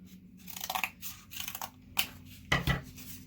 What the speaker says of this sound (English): Again, just going to cut a little bit off